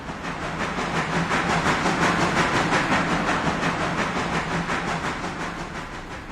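A train pulling out in the railroad game Railroader, a steady loud rumble with rhythmic clicking of wheels and a faint hiss, building and then easing slightly as it moves off.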